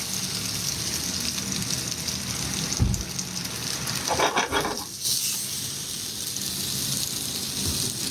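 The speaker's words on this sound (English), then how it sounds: "We put them right into the frying pan." Breadcrumbed raw shrimp dropped into hot oil in a frying pan, giving a steady, close sizzle and crackle like rain, with brief surges as pieces are added and shifted.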